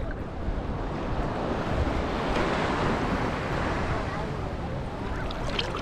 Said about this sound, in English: Some decent waves today too,